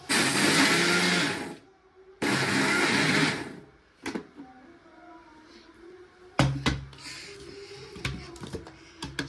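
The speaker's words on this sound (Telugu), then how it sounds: "మనం ఇప్పుడు మిక్సీకి వేసుకోవాలి" A mixer grinder grinds fried boondi for motichoor laddu in loud bursts, two long whirring runs with a brief pause between, followed by quieter knocks and handling clatter.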